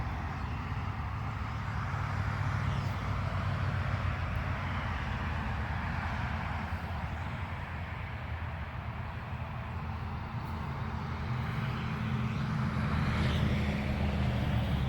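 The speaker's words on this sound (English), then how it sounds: "Sorry about the noise. For whatever reason today traffic is atrocious." Steady road traffic roar rolls past a wildflower meadow planted for bees, a continuous broadband rumble of passing cars and trucks holding a constant level throughout, with no talk.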